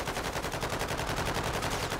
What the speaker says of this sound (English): guys, let's fire my gun up in the air